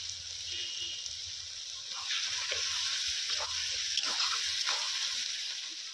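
Ginger garlic paste fries in a hot pan in a village kitchen, giving a steady bright sizzle that swells louder partway through, with faint stirring.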